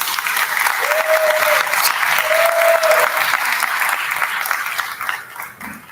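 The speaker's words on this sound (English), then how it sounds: "So would you please give yourselves and your wonderful kids a round of applause" Parents and families applaud at a school symphonette concert, a sustained, even burst of clapping from a seated audience that tapers off toward the end, with faint voices in the background.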